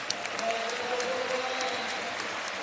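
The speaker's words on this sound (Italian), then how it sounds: "Adesso gli applausi che sentite, eccolo qua, sono per Davon Hall" A basketball arena crowd claps in steady applause during a playoff game, a dense patter of hands heard from a distance, with no pauses.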